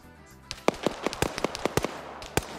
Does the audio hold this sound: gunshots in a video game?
yes